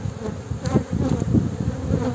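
Honeybees at an opened hive during inspection make a dense, loud, close buzzing hum that swells and wavers continuously, with no voices.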